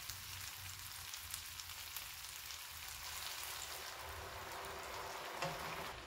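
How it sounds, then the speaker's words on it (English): Vegetable broth hits a pan of risotto after the wine has cooked off, giving a steady soft sizzle and bubbling simmer, faint and continuous with no voices. "Now that the wine has evaporated, we're gonna add 1 cup of vegetable broth."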